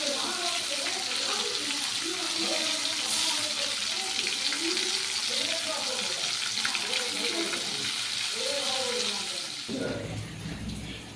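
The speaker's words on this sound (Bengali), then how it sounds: "পটলটা এখন ভাজছি, তেলের উপর দিয়ে দিয়েছি" Pointed gourd (potol) fries in hot oil with a steady, close sizzle and crackle throughout, briefly shifting near the end.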